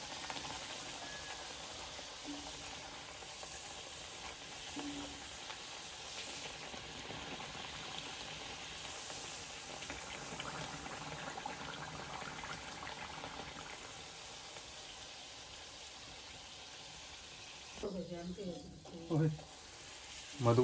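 Vadas frying and puffing up in hot oil in a kadhai, cooked for a Gatari chicken party; a steady, moderate sizzle runs evenly throughout, with a few louder clatters and bursts near the end.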